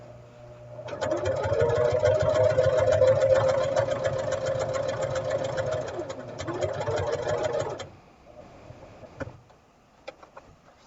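A sewing machine stitches a quilt binding with a close, steady mechanical whir that runs for several seconds before stopping, leaving a few faint clicks and handling noises.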